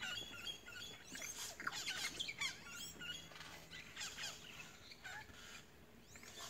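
Noisy birds in the Amazon give a busy, faint chorus of chattering and squawking calls, overlapping irregularly in the distance.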